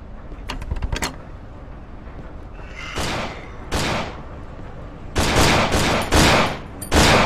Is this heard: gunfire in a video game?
yes